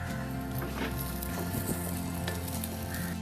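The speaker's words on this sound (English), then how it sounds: "So we're going to add some curry leaves to it." Curry leaves sizzle in hot coconut oil, a loud, steady frying crackle with scattered pops and brief stirring scrapes throughout, no voices.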